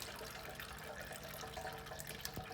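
Transmission oil draining from a 2017 Dodge Grand Caravan, a faint steady trickle and patter of fluid into a pan beneath a constant background hiss.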